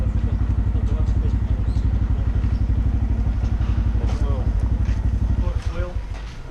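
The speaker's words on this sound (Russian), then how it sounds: "Вот такой вот мотоцикл, 125" A Honda 125 cc motorcycle engine runs at a steady, loud idle with a rapid, even pulsing beat close by, while people talk over it and the engine note drops near the end.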